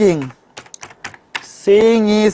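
Fingers tap a computer keyboard in a few quick, close keystrokes during an HTML coding lesson, with one press of the Enter key, sandwiched between bits of a man's speech.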